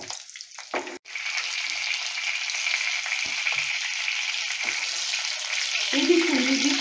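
Bhetki fish fingers fry over a medium-low gas flame, a steady close hiss of oil crackling throughout, with a brief clatter near the start and a louder bubbling burst toward the end.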